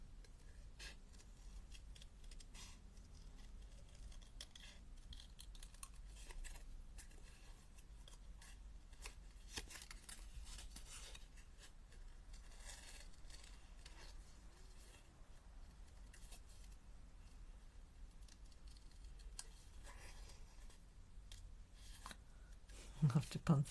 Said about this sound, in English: We'll just go around and give him a little fussy cut.